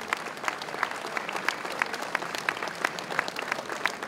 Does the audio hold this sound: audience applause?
yes